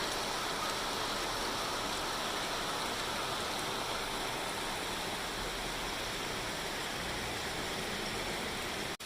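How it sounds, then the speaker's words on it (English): Heavy tropical rain pours down outside an apartment front door in a steady, dense roar of broadband hiss, constant and close, with no voices. "it's pouring outside"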